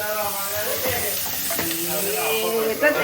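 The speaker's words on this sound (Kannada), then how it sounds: "ನಮ್ಮಮ್ಮ ಒಗ್ಗರಣೆ ಹಾಕದ್ ನೋಡಿ" Spices tempering in hot oil for a home-cooked dish crackle and sizzle close up, a steady frying hiss with stirring scrapes and a few sharper pops, with no talking.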